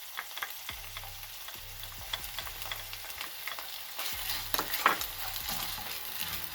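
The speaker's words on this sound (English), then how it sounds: "Now we're gonna add in the 3 cloves of garlic and the 1 tablespoon of ginger." Three cloves of garlic and a tablespoon of ginger sizzle in a hot pan, a steady close frying crackle punctuated by repeated utensil scrapes and taps, with no one speaking.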